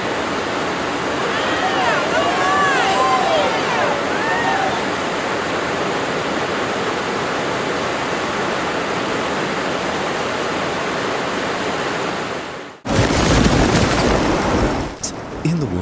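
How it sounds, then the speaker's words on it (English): Raging flood water sweeping everything away, a loud continuous roaring rush like a torrent, steady for most of the stretch before an abrupt cut to a harsher, louder burst of churning water. "The power of water pulls everything in its path, and even these bridges are nothing against the raging waters"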